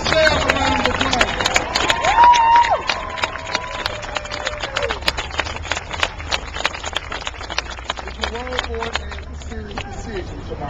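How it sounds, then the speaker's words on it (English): Crowd at a Justice for Troy Davis rally applauds and cheers, a dense wash of clapping and voices that fades gradually over about ten seconds, with scattered whoops near the end. "Let's give ourselves a round of applause."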